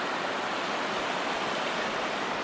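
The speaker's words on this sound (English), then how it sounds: "Got a beautiful river." River in the San Juan National Forest, a steady broadband rush of flowing water close by, continuous with no voices.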